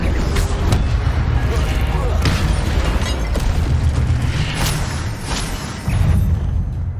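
The Incendio fire spell in Hogwarts Legacy roars with heavy, rumbling booms and bursts, loud and sustained, while a voice speaks over the combat noise.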